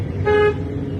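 A single short car horn toot sounds close and clear, a steady tone lasting about a quarter second over quiet road background.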